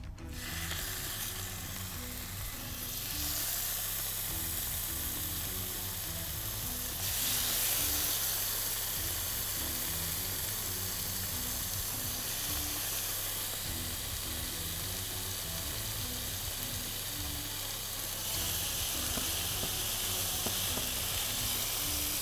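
Chicken pieces brown in a pan over high heat, a loud, continuous sizzle and crackle lasting throughout, steady and close, with a low mechanical hum running underneath.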